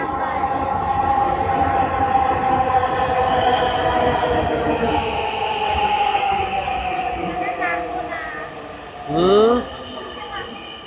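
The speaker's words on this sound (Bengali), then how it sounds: "এই যে ট্রেন আসতেছে।" A metro train rumbles steadily and gradually slows as it arrives at a station, with rising and falling brake squeals and a loud hiss near the end as it stops.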